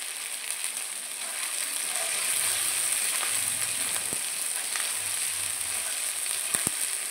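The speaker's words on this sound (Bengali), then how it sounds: "আদা আর আলুটাকে আমি ভালো করে ভেজে নিচ্ছি" Ginger and potato pieces frying in hot oil in a pan, a dense, steady sizzle close by with occasional light stirring knocks, no voices.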